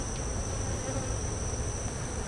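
Honey bees buzzing steadily from an opened hive in a new bee yard during an inspection, a dense continuous hum close by with no talk.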